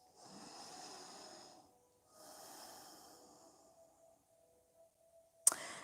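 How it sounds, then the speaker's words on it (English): Slow nasal breathing during a yoga class, two long soft airy breaths a few seconds apart, close and quiet, then a brief sharp sound near the end. "Breathing through your nose."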